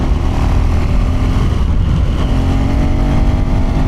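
A KTM 390cc motorcycle engine revving hard under throttle, a loud, close, continuous roar that climbs and holds through the gears.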